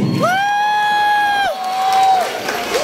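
At an award ceremony during a competition, a crowd cheers and whoops loudly, with one long sustained shout rising over the general noise of the audience.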